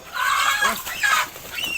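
Farmyard chickens bred by an elderly keeper cluck and squawk close by in a few uneven bursts, with short rising calls between quieter gaps.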